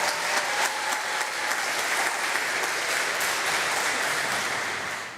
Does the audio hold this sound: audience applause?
yes